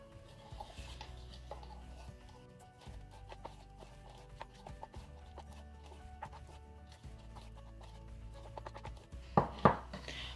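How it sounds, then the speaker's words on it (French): Slow stirring of a fluffy slime mixture made from toothpaste and water, a steady soft scraping churn in a bowl that repeats in long strokes, with a few sharper clinks near the end. "J'essaie de mélanger pas trop vite."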